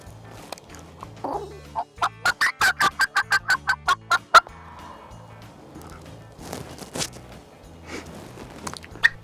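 A large wild turkey walks in through Appalachian Virginia woods, giving a rapid run of about a dozen sharp clucks followed by scattered softer calls and rustling.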